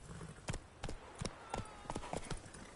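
Horse hooves clip-clopping in the video game The Witcher 3: Wild Hunt, next-gen version on PS5, a steady rhythm of about eight distinct hoofbeats at a trot, fairly close, over faint ambient background.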